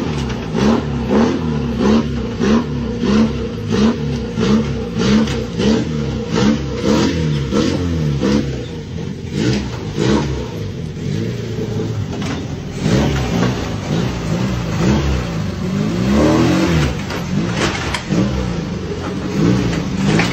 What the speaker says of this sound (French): À chaque pression sur l'accélérateur, on dirait que cette voiture menace de désintégrer.